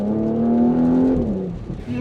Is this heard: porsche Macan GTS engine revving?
yes